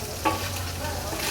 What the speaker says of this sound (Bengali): মাছ ভাজা হচ্ছে একদম গরম গরম